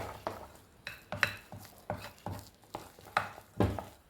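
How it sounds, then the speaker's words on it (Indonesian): A potato and cornstarch dough being stirred and mixed in a bowl, heard as a close, quiet series of regular scraping knocks about twice a second, with no talk. "ini diaduk-aduk aja sampai tercampur dengan merata, tidak ada tepung yang menggumpal ataupun menggerindil"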